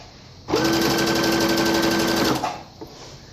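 An electric sewing machine stitches felt for a gift bag in a single run of about two seconds, a fast, even mechanical whir that starts and stops abruptly, with faint handling clicks after.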